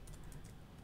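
JavaScript code being typed on a computer keyboard, a quick run of faint, close key clicks over a soft background hum.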